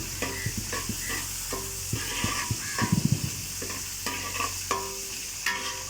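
Curry leaves sizzle in hot oil while lemon pickle is being made, a soft constant hiss broken by repeated scraping and stirring knocks, near and fairly quiet, with no voices.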